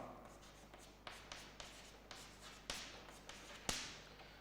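A marker or chalk writes on a board during a chemistry lecture, with a series of quick taps and short strokes spaced a fraction of a second apart in a quiet room.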